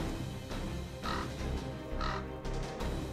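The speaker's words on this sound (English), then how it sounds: "Can you hear the cries of those birds flapping their wings overhead?" Birds cry overhead in the video game Fate/Grand Order, two or three harsh, crow-like caws rising over a steady, rumbling game background.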